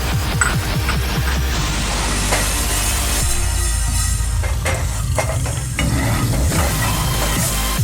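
Fenugreek seeds dry roasting in a pan for homemade sambar powder, a loud close rattle and scrape of seeds being stirred against the metal in quick strokes, with a light sizzle underneath.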